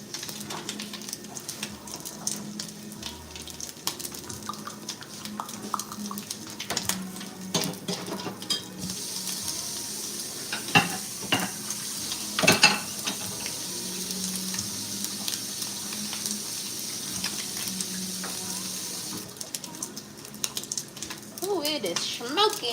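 Bacon crisping in a pan, a soft ongoing sizzle mixed with clinks of dishes and cutlery as a cook tidies up nearby, with some talking over it.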